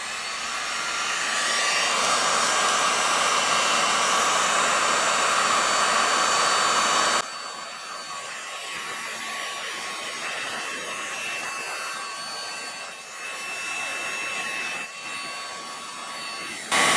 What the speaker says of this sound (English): take the heat gun and see if we can bring out some of the oils